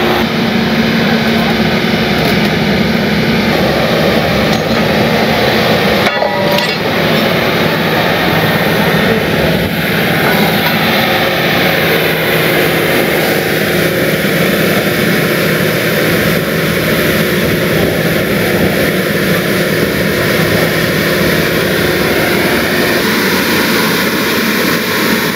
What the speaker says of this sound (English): Now we're going to boom this down, lift the front of the machine in the air to pull those blocks out